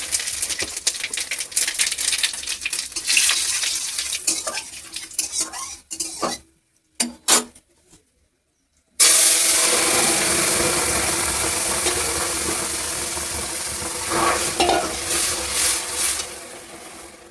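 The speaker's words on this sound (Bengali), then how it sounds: "এবার শুকনো লঙ্কা দিলাম, দুটো তেজপাতা দিয়ে দিলাম, জিরে দিয়ে দিলাম" Dried chillies, bay leaves and cumin frying in oil: loud sizzling mixed with metal spoon clatter against the pan, broken by a brief near-silent gap before the hiss returns strongly.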